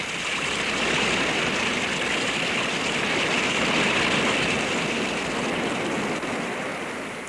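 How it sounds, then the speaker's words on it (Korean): Snowmelt stream spilling over a small waterfall in spring, a steady, close, full rush of flowing water that holds constant throughout with no voices. "눈은 따뜻한 봄 햇볕에 녹아 물방울이 되고 작은 개울이 되어 시내를 이루어 흘러내려 작은 폭포를 이룬 다음"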